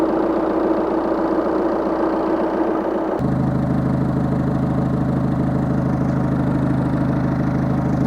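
A car engine idles while warming up, a steady, loud close rumble whose note drops and deepens abruptly about three seconds in, then holds an even low drone to the end.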